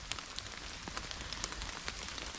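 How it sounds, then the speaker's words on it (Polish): Heavy rain falling in a forest, a continuous dense patter with scattered sharper drops, steady and moderately loud with no voices. "bo jak widzimy, dalej mocno pada."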